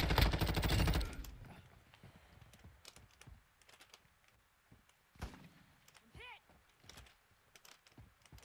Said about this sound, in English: Who's shooting at us now?